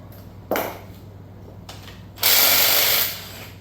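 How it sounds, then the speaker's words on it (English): A hand socket ratchet loosens the last bolt holding an engine crankshaft during a teardown, giving a sharp clicking burst near the start, a brief quieter click later, then a longer loud rasping run of ratcheting close up, with no talk. "I got to grab another socket. Should be it right there. We'll get this last bolt out."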